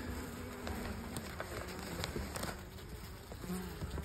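Honey bees buzz steadily inside a small spring hive cluster, a close, continuous drone with faint scraping of frames and no voices.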